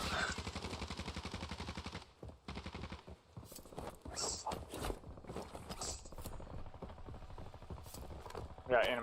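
Rapid bursts of automatic gunfire fire at bots in Call of Duty Warzone, starting with a sustained rattling stream, then sharper scattered shots and mechanical clicks, with voices talking over it.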